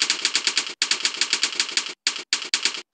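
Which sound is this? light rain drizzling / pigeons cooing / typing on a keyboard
typing on a keyboard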